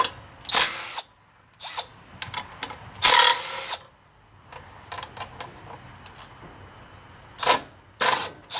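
Screws are backed out of a go-kart engine with a power driver, heard as several short, loud whirring bursts separated by quiet pauses and small clicks and clunks of handling, up close with no talk.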